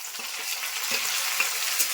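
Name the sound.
turmeric-salt marinated fish added to frying onions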